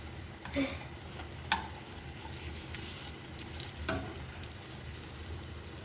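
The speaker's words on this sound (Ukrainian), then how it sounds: "Піджарила до румяної корочки і переставляю сразу в сковородку з великим количеством масла" Doughnut dough frying in a pan with plenty of oil, a quiet, even bubbling sizzle broken by a few sharp crackles and pops.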